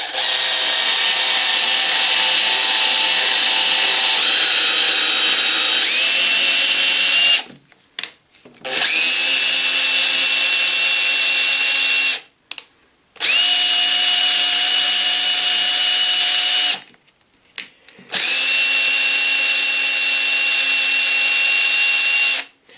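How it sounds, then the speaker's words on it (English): A power drill bores through wood at a small office workbench in four long, loud, steady whining bursts separated by short pauses, with no talking. "you drill through there, come out the other end"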